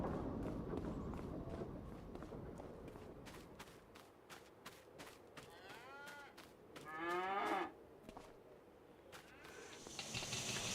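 Cattle lowing on a farm in Farming Simulator 25, a long moo rising clearly near the middle over a steady ambient bed with repeated soft clicks, plus a fainter moo and hissing farm background toward the end.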